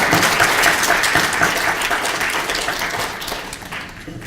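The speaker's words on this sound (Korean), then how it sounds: "그러니까 박수 열심히 한번 치겠습니다" Audience applause at a disability policy forum on a basic law for disabled people, dense and steady hand clapping throughout that thins slightly near the end.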